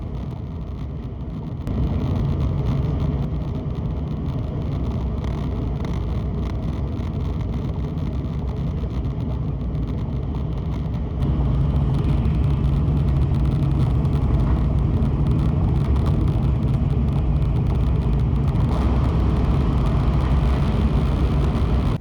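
Steady low rumble and hum inside a Shinkansen bullet train carriage in motion, a continuous ride noise that shifts slightly in level partway through, with no voices.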